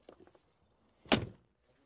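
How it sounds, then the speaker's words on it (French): The door of a 2024 Mercedes-AMG G63 shuts with a single heavy, solid thunk, preceded by a few faint clicks from the handle and latch, heard up close in an otherwise quiet setting. "Et chaque porte sonne comme ça."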